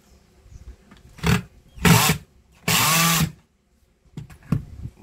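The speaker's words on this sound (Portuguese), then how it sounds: "E vamos apertar aquele parafuso ali, ó." Screw being tightened on a household vacuum cleaner that had been vibrating heavily, likely with a power driver: short loud whirring bursts of about half a second, then a sustained buzzing run close by, with quiet handling clicks between and no talk.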